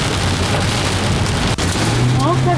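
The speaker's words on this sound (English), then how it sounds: "Very heavy wind. Very heavy rain. There's more hail." Hail and sideways rain pound down in very heavy wind during a storm in Phetchabun, Thailand, making a loud, continuous roar with a deep rumble underneath. Voices can be heard partway through.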